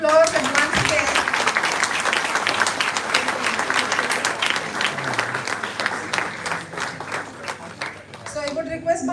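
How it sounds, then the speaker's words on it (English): Audience applause at an international conference award ceremony, steady dense clapping for about nine seconds with voices and a spoken announcement mixed in over it near the end. "so a huge round of applause and once again"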